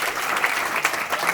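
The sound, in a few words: audience applause for founders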